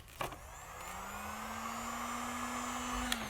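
A handheld heat gun blows a steady hot-air whine and hiss while warming vinyl car wrap to release a deliberate wrinkle, with a brief click at the start and a sustained tone that holds close and even.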